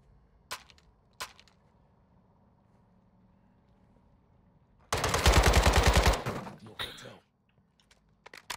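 Call of Duty Modern Warfare 2 gunfire: a couple of sharp single shots, then a loud rapid automatic burst lasting over a second, followed by scattered quieter shots.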